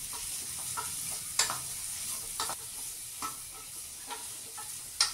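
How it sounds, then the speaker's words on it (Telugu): Grated carrot for carrot halwa frying on a medium flame, a steady close sizzle with periodic sharp scrapes and knocks of a stirring spoon against the pan, no voices. "మీడియం ఫ్లేమ్ లో పెట్టి వేయించండి."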